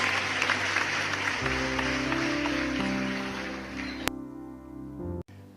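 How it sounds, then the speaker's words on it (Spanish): A church congregation claps together in a dense, steady wash while sustained musical tones rise beneath it, then the clapping thins out and ends with a sharp click. "Fuerte el aplauso para Dios"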